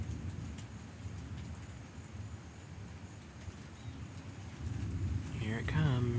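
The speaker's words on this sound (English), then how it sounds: "It's drizzling now." Light rain drizzles steadily during a night thunderstorm, a soft constant hiss with low rumbling underneath, faint and outdoors, swelling slightly toward the end.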